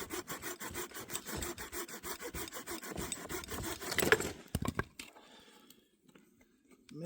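Firewood being gathered for a camp stove outdoors, a fast rhythmic rubbing and sawing on wood for several seconds, followed by a few scraping knocks and then near quiet.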